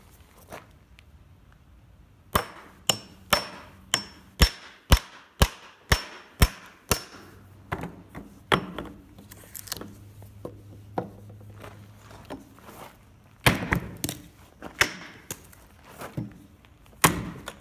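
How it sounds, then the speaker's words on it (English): A hammer drives a cold chisel through a 2x4 board in a run of sharp, regularly spaced metallic strikes up close, with a brief scraping rub partway through and a few more blows at the end. "then I'll knock out the pieces with the cold chisel"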